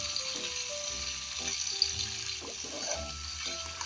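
Peeled shrimp sautéing with onion in a hot pan, a steady soft sizzle with faint rattles and scrapes, moderately close, with light background music.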